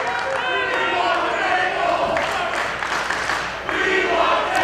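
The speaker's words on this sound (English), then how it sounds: "the crowd is chanting, "We want tables,"" A wrestling arena crowd chants 'We want tables' in a loud, rhythmic, massed roar that stays busy and continuous throughout.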